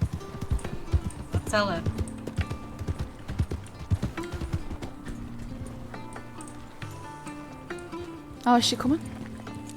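Horse hooves clip-clop in a video game, a steady near trot with a brief whinny near the end, heard under ongoing game music and people talking.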